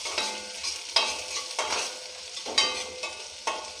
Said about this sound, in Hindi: ये थोड़ा सा ब्राउनिश टाइप का होने देना है। अनियन थोड़ा ब्राउन ब्राउन हो गया है